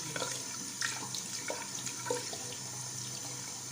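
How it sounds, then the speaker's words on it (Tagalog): Running tap water rinsing an iron spec at a sink, a soft continuous splash and trickle with small irregular spatters, close but fairly quiet. "Huhugasan natin ng water."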